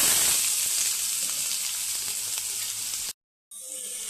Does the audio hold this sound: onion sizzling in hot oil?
yes